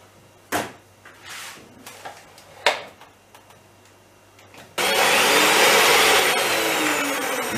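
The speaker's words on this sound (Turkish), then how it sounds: "Yumurtayı çırptık" A few knocks and taps, then a loud, steady whirring of an electric mixer beating eggs close by.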